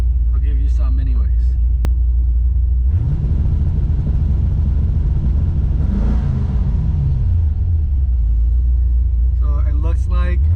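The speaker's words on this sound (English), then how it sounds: "I'm gonna press this button and give you some 2-step" LS-swapped Infiniti G35 with mufflers running two-step launch control, a deep rumbling idle that jumps into a loud, held, stuttering rev limited around 2200 RPM before dropping back, with someone talking at the start and end.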